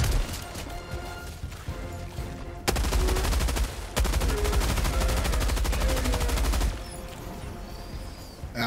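Automatic weapon fire from Helldivers 2 bursts out in loud, rapid sustained volleys, with a brief pause midway and quieter battle noise before and after.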